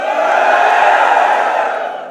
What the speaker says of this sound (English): Mi fans, give me a cheer.